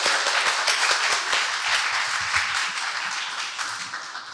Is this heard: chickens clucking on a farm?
no